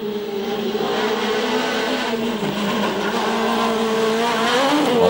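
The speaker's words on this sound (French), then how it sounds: "Et un pilote qui attaque aussi, c'est Kevin Abring sur la Clio R3." A Renault Clio R3 rally car at the 2009 Rally of Ireland runs hard with a loud, steady engine drone and shifting pitch, tire noise mixed in, with no talk over it.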